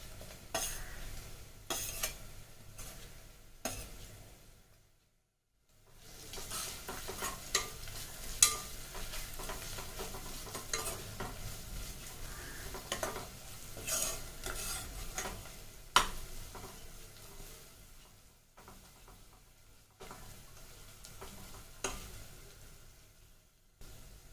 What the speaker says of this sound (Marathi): आता याच्यात टाकूया आपण अद्रक लसणाची पेस्ट।